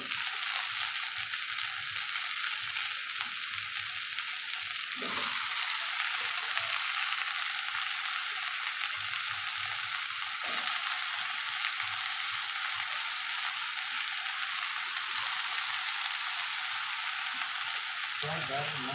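Brinjal frying with onions in a pan for a Tamil brinjal curry, a steady, loud hiss and sizzle with occasional stirring scrapes, continuing throughout.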